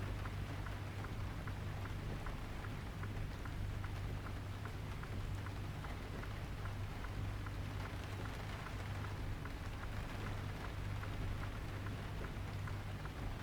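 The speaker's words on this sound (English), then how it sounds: "Rain's pretty loud." Heavy rain in American Truck Simulator pounds steadily on a truck cab and mirrors, a constant dense hiss with a low engine drone beneath, no talking.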